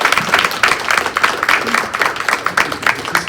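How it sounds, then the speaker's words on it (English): Audience at a pitch competition claps for a presenter, a steady, moderately loud round of many hands with a lively uneven patter from start to finish. "Hey, another round of applause for Hope."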